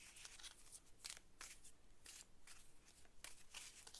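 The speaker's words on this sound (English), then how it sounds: "Why do I shuffle like a crazy person?" Tarot cards being shuffled in quick, irregular riffling bursts, close and fairly quiet, with no voices.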